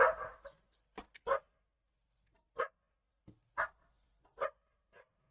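A dog barks below an apartment window next to a street store, a series of short separate barks spaced irregularly over several seconds, moderately distant and otherwise in quiet.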